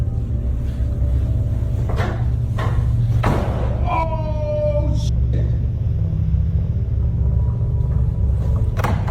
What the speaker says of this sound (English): the door behind him slammed shut violently